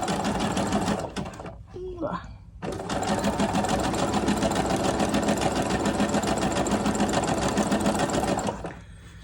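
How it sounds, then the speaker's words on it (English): A serger overlock machine runs steadily while stitching fabric for doll panties, a dense mechanical whir that stops briefly for a pause with a faint voice murmuring, then resumes and hums continuously until cutting off near the end. "I was able to just cut off all my threads for the serging machine because it was just all going to be fed in here anyway"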